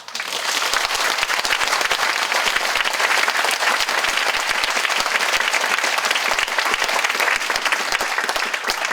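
A hall full of symposium attendees claps hard and without letup, a thick wash of many hands holding a steady, loud level from start to finish.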